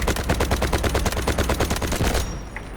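Sustained, rapid automatic gunfire from an M250 heavy machine gun in the Delta Force video game, loud and close with evenly spaced shots for over two seconds before cutting off into quiet.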